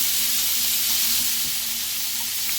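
A tablespoon of garlic hitting frying chicken in a low-carb cashew chicken pan gives a steady, loud broadband sizzle that holds evenly throughout, with no voices.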